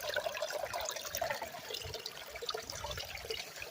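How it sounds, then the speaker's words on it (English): Creek water at a garnet dig trickles and splashes as specimens are rinsed off, a lively, uneven babble of small splashes and drips close by. "You can't beat having a creek at the bottom to wash things off."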